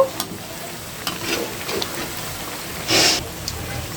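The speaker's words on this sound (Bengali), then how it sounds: "একটা বড় কড়াইতে তেল দিয়ে আমি এখানে অনেকগুলান পিঠা একসাথে ভেজে নিচ্ছি" Meat pitha deep fry in plenty of oil in a large wok, a continuous crackling sizzle close by with a louder burst of spattering near the end and occasional small pops.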